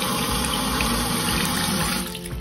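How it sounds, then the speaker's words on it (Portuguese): Water runs steadily from a sink faucet in a furnished house with glass basins, a continuous close hiss that eases off slightly near the end. "eu vou abrir a torneira"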